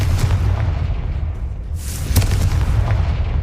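A Confringo blasting spell explosion in Hogwarts Legacy, a deep rumbling boom with a sharp burst in the middle, loud and close over a steady low background rumble.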